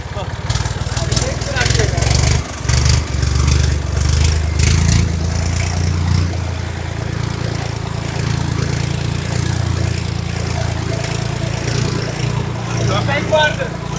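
A 1972-model farm tractor engine runs close by with a steady, low, chugging idle, while people talk over it throughout.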